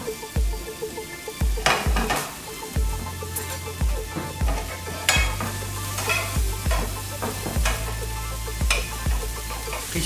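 Food being stirred as it fries in a pan for a high-protein omelette, with loud sizzling under frequent sharp scraping and clacking strokes of the spatula at a brisk, uneven pace, close up and without speech.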